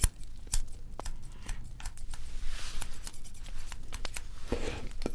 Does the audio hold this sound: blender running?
no